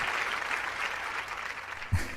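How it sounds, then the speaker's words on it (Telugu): Studio audience clapping during a Telugu-dubbed Aap Ki Adalat talk show episode with Salman Khan, moderate steady applause throughout the short stretch, ending in a brief thump. "దీనికి చప్పట్లు కొట్టాల్సిన అవసరం లేదండి"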